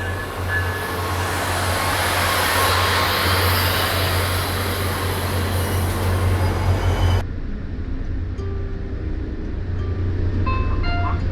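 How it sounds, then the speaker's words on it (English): Altamont Corridor Express commuter train running between Stockton and San Jose, heard from inside as a steady rumble and broadband roar that suddenly drops to a quieter interior hum partway through. "welcome aboard the Altamont Corridor Express"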